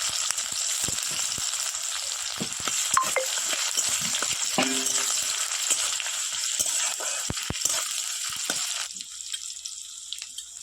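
Chopped onion hits hot mustard oil in a wok with dried red chilli and five-spice seeds, giving a steady broadband sizzle that runs throughout, with scattered clinks and stirring knocks, quieting somewhat near the end.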